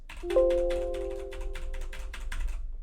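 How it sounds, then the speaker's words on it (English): Rapid keyboard clacking from the video game Master Detective Archives: Rain Code, a steady run of close typing taps lasting a few seconds with a brief tonal game sound early on, and no talking. "He's gonna start clacking away on the keyboard."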